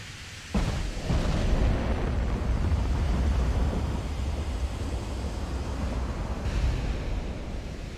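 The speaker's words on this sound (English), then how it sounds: "Torpedoes hit the battleship, and the Agir is down." Torpedoes strike a battleship in the naval warfare game Ultimate Admiral: Dreadnoughts, giving a sudden deep boom followed by a long, rolling rumble that holds steady and fairly loud, with no voices.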